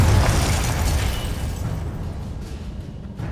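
A fiery Confringo spell explodes in the Hogwarts Legacy video game, a loud booming burst at the start that rolls off into a fading rumble over a few seconds.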